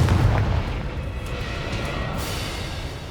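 A Confringo spell explosion in Hogwarts Legacy, one deep, heavy boom at the start that decays into a low rumbling tail.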